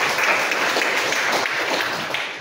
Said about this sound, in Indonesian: tepuk tangan untuk Maya.